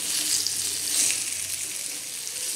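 Sliced okra sizzles as it sautés in hot oil, a steady bright crackle that swells briefly around the middle and holds close and even to the end.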